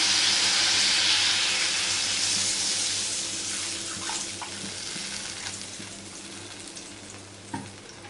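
Water poured into fish curry masala for a thin pabda fish jhol with brinjal, giving a broad hissing rush and sizzle that fades after a few seconds into a quieter simmer with faint clinks, close and without talk.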